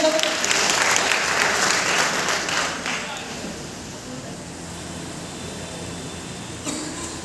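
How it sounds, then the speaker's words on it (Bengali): An audience at an award ceremony for an online blood donor team claps loudly for a guest for about three seconds, then the applause fades into a quiet room with faint murmuring. "জোরে করতালির মাধ্যমে"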